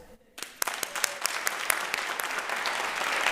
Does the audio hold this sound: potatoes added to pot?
no